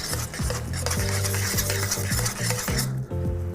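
Close, continuous sizzling of pasta in garlic and oil sauce in a pan with repeated scraping and swirling strokes of a utensil, a steady stirring rhythm.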